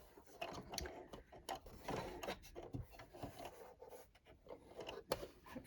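A sewing machine stitches a casing on a Barbie dress, with a quiet mechanical whirring and ticking that rises and falls in short bursts.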